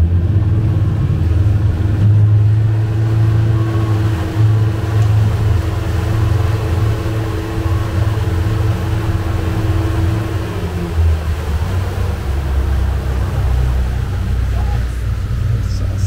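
A speedboat pulls away on a Naka Island luxury resort boat trip, its engine a loud, steady low drone that holds for the whole stretch, easing slightly toward the end.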